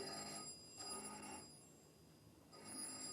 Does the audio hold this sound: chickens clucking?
no